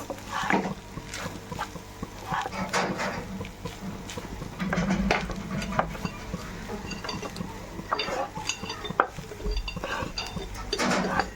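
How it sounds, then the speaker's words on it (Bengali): Potatoes with spices being stirred in a pan for chicken kosha and fried rice, a spoon scraping and clinking against the metal in repeated strokes over a steady low kitchen hum, close and moderately loud, with no voices. "এটা একটু ভালো করে নেড়ে নেবে"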